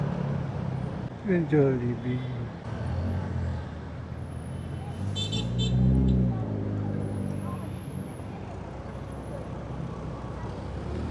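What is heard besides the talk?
street traffic with cars, trucks and buses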